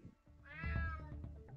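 A cat in the video game Unmetal lets out a single drawn-out, whiny meow, close and clear over low background game sounds.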